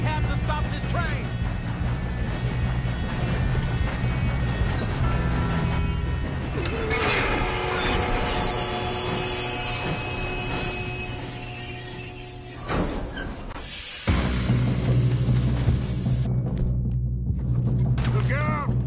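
A moving train in the Red Dead Redemption 2 video game rumbles steadily and loudly throughout, with mechanical clanks and higher metallic tones layered over the low drone and a brief dip midway.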